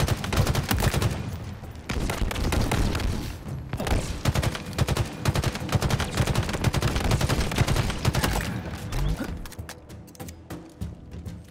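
Battle rifle gunfire during a Halo Infinite campaign battle, dense rapid bursts of shots firing almost without pause, loud and close, with other weapons crackling in the mix and barely any talk.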